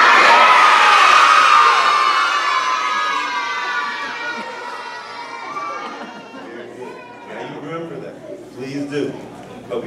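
A crowd of school children shouts and screams together at full volume, the roar starting loud and gradually fading into scattered cheering, chatter and whoops.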